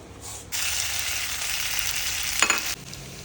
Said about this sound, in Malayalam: അടുത്തായിട്ട് അതിനൊരു വറ കൊടുക്കലാണ് അത് നമ്മൾ കടുക് ഒന്ന് കുറച്ച് കടുക് എടുത്തൊന്ന് തളിക്കുക എന്നുള്ളതാണ്